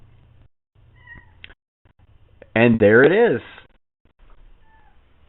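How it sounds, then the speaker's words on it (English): A cat meows at the door of a house during a Thursday night amateur radio net, a single loud wavering meow that stands out clearly between quiet stretches, with brief speech before it. "we had a cat walk up to the door today"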